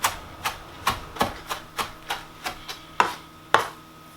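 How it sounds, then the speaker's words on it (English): Knife chopping fresh parsley leaves on a cutting board, a steady series of about a dozen crisp, close taps at a regular rhythm, the last two a little harder, with no talking. "Last thing I have to chop is parsley"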